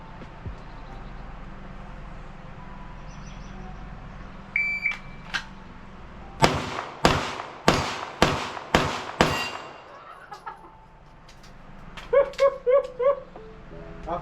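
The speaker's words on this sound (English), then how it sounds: "this time I want you to shoot at each one of those targets one time" Gunshots fired one at a time at several targets on an outdoor shooting range during marksmanship training, a run of six or so sharp cracks in an evenly spaced rhythm, close and loud, followed by faint electronic beeps.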